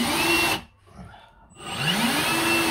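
Power driver sending a 30mm screw into a kitchen cabinet without pre-drilling: a loud, steady whirring burst, a short drop to near quiet, then the motor whirring again loudly to the end.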